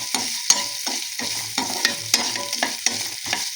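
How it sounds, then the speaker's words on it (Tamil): Grated coconut stirred and scraped as it roasts in a hot pan, with rhythmic spatula strokes over a steady light sizzle, close by and fairly loud. "தேங்காய் வறுத்து எடுத்து நம்ம மாவை வறுத்துக்கலாம்"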